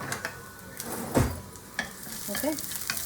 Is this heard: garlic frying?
yes